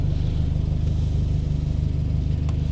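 A snow-covered Subaru BRZ idles just after starting on a cold day, a steady, close, low engine rumble with no talking.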